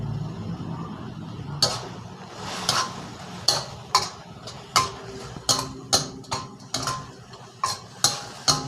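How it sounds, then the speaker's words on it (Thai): Glass noodles stir-fried with beef and holy basil in a pan, a utensil scraping and clacking against the metal in a steady run of sharp, close ticks over a low background hiss. "ผัดให้วุ้นเส้นสุกนะครับ"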